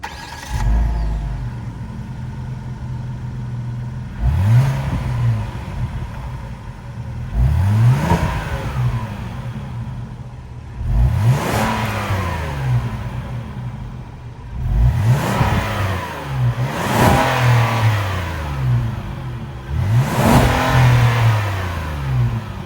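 The 3.5-liter V6 of a 2024 Kia Carnival minivan idles steadily while being blipped about six times, each rev rising sharply and falling back, close and moderately loud.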